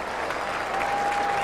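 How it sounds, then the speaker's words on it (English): Dense, sustained applause and cheering from college football fans in a stadium at a 2007 West Virginia Mountaineers versus Marshall game, a broad wash of clapping from a large crowd with a faint steady tone beneath. "the fans, many of them still remaining, especially the Mountaineer fans, stand and cheer"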